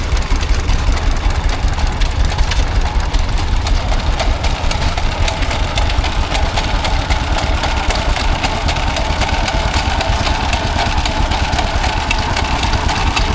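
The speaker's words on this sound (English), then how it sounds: "this is a Vermorel Type V3. Never seen one of these before. Made 1928, radiator cooled." A 1928 Vermorel Type V3 radiator-cooled stationary engine, apparently driving a generator at an outdoor rural show, runs steadily with a dense, even chugging beat, loud and close throughout.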